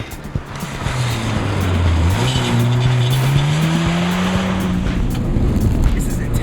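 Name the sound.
car driven at full throttle around a track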